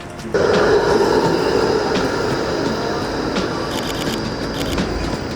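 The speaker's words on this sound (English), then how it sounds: "We found a juicy tram." A tram rolls past with a loud steady rumble and faint clicks of wheels, no voices, the noise holding throughout.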